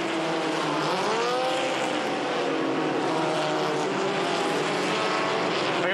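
Formula 1600 race cars, including an 81 PRS and an 88 Van Diemen, scream past at Mosport in a high, sustained engine whine, loud and continuous as one car drafts another down the straightaway.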